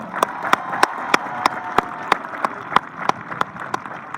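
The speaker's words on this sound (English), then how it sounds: "Keep that applause going for our incredible band and Dr. Caruso." Steady rhythmic clapping from a high school graduation audience saluting the band and its director, evenly spaced sharp claps about three per second over a bed of crowd applause and murmur, loud and close.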